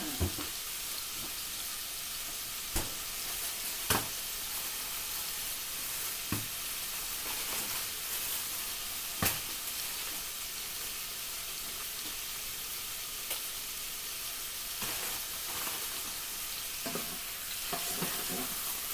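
Chicken partially cooking in a pan sizzles with a constant bright hiss, broken by sharp clacks and scrapes of a utensil every few seconds, close and moderately loud.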